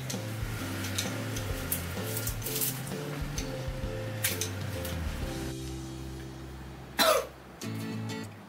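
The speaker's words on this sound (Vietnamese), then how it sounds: "Giờ biết bị gì ho quá." A person coughs once sharply, then clears the throat briefly, close by, over quiet music playing while flowers are arranged.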